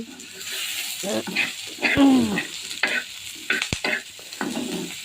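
Lentil dumplings (bori) cooking in a pan, with steady sizzling and frying broken by scraping stirs and a few utensil knocks, close and moderately loud; a faint voice or animal-like tone rises briefly in the middle.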